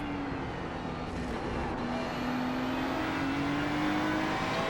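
Race car engine in the iRacing sim under steady throttle, a loud continuous drone with pitch slowly rising, close and uninterrupted with no talking.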